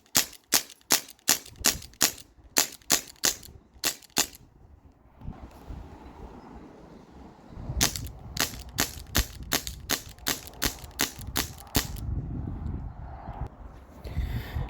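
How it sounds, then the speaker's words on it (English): An Umarex Brodax BB gun running on an HPA tank fires in rapid bursts of sharp cracks, a quick string of shots, a pause with a mechanical rattle, then another fast volley of snappy pops. "Alright, so I shot about 2 more mags."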